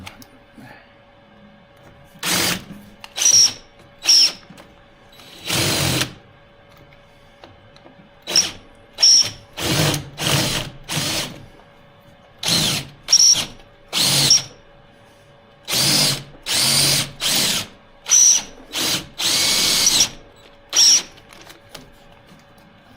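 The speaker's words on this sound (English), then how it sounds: "Those tapered drills are handy for stuff like that." Power drill with a tapered bit boring a hole during a 1976 BMW 2002 windshield install, repeated short whirring bursts starting and stopping in an irregular rhythm, close and fairly loud with faint hum between.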